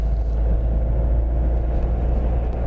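A car engine in third gear at about 45 km/h hums at a steady mid-range pace with a low, constant drone and road rumble, no voices.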